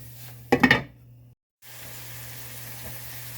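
Lasagna roll-up filling sizzles in a pan, beginning with a short burst of utensil clatter and stirring, then a brief break before a steady, moderate sizzle returns and carries on alone.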